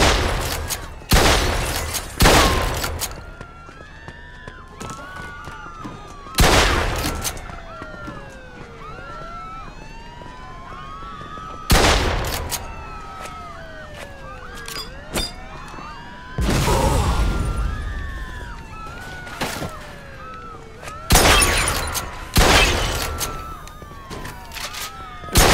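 Bursts of automatic gunfire in the video game Mafia II come in loud, repeated volleys every few seconds, while wailing police sirens sweep up and down steadily underneath.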